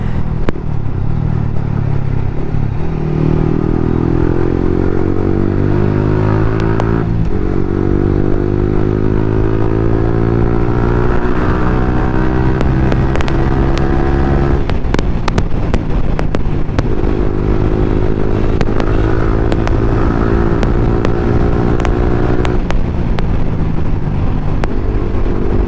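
A Yamaha R15 BS4 150cc motorcycle revs hard through rising gear pulls, its exhaust droning and climbing in pitch with each shift, loud and close with wind buffeting the microphone.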